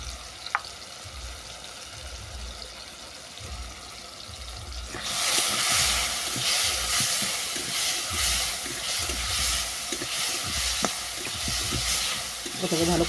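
Spices with turmeric and chili powder sauté in hot oil in a pan, a steady sizzle that swells suddenly louder partway through as the mixture is stirred, close and continuous with faint stirring scrapes.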